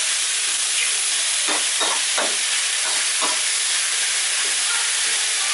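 Pork stir-frying dry in a pan for Thai fried rice gives a steady, close hissing sizzle throughout, broken by a few soft scrapes and stirring strokes.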